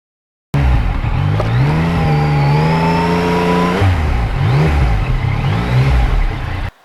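A Yamaha MT-09 motorcycle on a ride, its engine droning loud and close with rising and falling revs, a shift partway through, then cutting off at the end, no talk.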